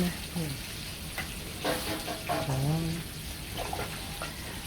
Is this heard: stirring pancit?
yes